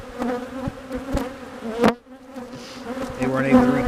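Honeybees buzzing at an open hive that has become a laying-worker colony: a steady, close droning hum with a few brief louder passes from bees near the listener and a short dip in the middle.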